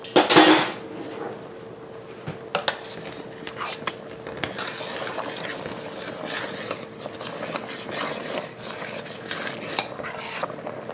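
A spoon stirs cheese sauce for baked macaroni in a metal pot, with a loud clatter at the start and then intermittent scrapes and knocks against the pot.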